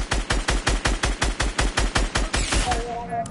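Video game gunfire fires at a player who is building: a rapid, evenly spaced automatic burst of about a dozen loud shots, then it trails off into a short tonal sound.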